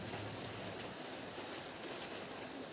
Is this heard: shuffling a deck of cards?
no